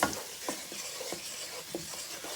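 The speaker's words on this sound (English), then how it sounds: "you just stir it until you get a little brown" A spoon stirring a flour roux for turkey-wing gravy in a pan, soft scraping strokes in an irregular rhythm over a faint low sizzle, close and quiet with no speech.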